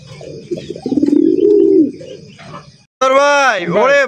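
King pigeons on a large breeding farm coo loudly and close by in rolling, throaty calls, one long burst followed by a pause and then another strong coo, with a voice briefly heard in between.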